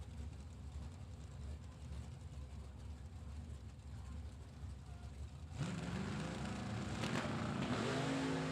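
A Chevy Camaro and an S10 drag race car at a drag strip, with a low distant engine rumble that jumps to a louder roar and rising revs as the cars launch.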